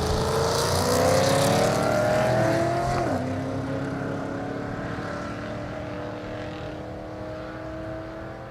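Fourth- and fifth-generation Camaros drag racing at Thunder Valley in Noble, Oklahoma: loud engine roar rising through the gears, a sharp shift near three seconds, then a steady high whine fading as the cars pull away down the strip.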